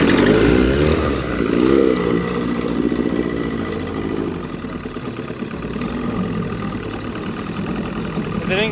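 An old 60-year-old boat engine chugs steadily after starting on the first pull, a loud, rough low running note that fills the whole stretch, with voices talking over it.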